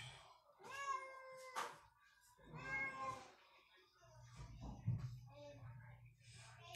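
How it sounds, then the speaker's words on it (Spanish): A cat meows loudly several times in drawn-out, wailing calls, with people talking nearby between and over the cries. "Algo trae ese gato, nunca lo había oído hablar. Bueno, maullar así."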